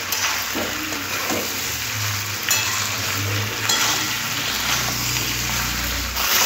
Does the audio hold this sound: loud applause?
no